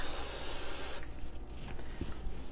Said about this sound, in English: Take hairspray and go ahead and spray down the whole surface.